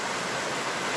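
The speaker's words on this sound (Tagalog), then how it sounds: "Ang linis ng ilog." A clean mountain river flows steadily, a broad, even rush of water with no pauses, moderately loud and close, with no voices.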